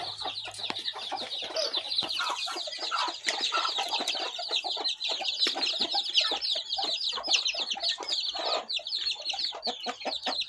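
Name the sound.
chickens clucking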